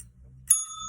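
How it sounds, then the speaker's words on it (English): A hand bell rings once during a children's syllable lesson, a single bright clear strike with a ringing tone that sustains and slowly fades, over a low background hum. "And remember, each time I ring my bell,"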